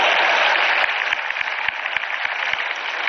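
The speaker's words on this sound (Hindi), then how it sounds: "जोरदार ताली बजाओ इनके लिए।" An audience claps loudly for a weight-loss gathering, dense applause close up with individual sharp claps standing out as it slowly thins.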